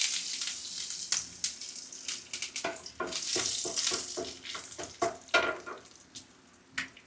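Curry leaves fry in a pan for an okra and egg thoran, giving bursts of spattering crackle and sharp pops over a faint sizzle, uneven and fairly quiet with no talking.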